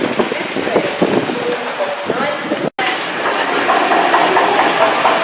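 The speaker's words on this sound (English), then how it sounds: "There you go, my Voyager to Bournemouth." A Voyager passenger train to Bournemouth crosses a viaduct, giving a loud, close run of rolling wheel clatter and engine noise that carries on steadily, with a person talking over it.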